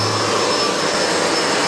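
A SEBO Felix upright vacuum cleaner runs steadily and loudly at close range, a continuous broadband whirring roar with no breaks and no voices.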